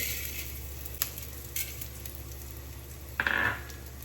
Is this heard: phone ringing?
no